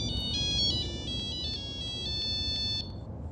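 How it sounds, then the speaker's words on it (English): A loud, irritating mobile phone ringtone plays a repeating, bright electronic melody in short pulsing bursts over a steady background hiss, with no one speaking. "ringtone."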